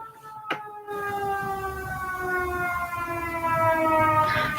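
Outdoor warning sirens wail steadily with layered sustained tones, loud and continuous after a brief sharp knock at the start.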